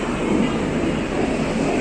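A Chennai to Bangalore Humsafar Express train rumbles loudly and steadily, a dense continuous roar of a moving rail car heard from close by.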